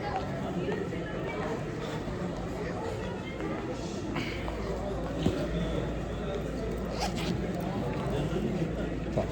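A clothing zipper is pulled in a busy airport boarding area, giving short raspy bursts over a constant background hum and faint crowd chatter.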